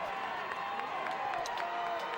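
Crowd at a high school football game between Bakersfield Christian and Shafter, cheering and roaring steadily in a continuous wash of distant voices with scattered shouts.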